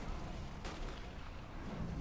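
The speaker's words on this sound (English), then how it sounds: "Oh, artillery is hitting the guys sitting outside." Artillery fire in a Total War: Warhammer siege battle with Chaos Dwarfs, a sharp single boom over a dense, continuous, fairly quiet roar of battle noise.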